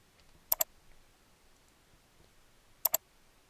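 Computer mouse clicking, two quick double clicks spaced a couple of seconds apart, crisp and close in an otherwise quiet room.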